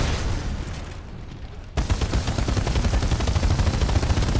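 Rapid automatic bursts from a Flatline rifle in Titanfall 2, quieter fire at first, then a loud, close, sustained stream of rapid shots dominating the second half.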